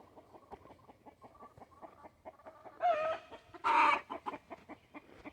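Hens, one with clipped wings, cluck softly and repeatedly nearby, with a couple of louder, higher squawks partway through and no voices.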